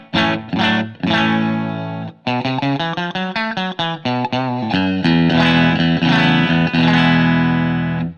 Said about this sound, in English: it sounds to me like almost a ring modulation with a little bit of slapback echo on it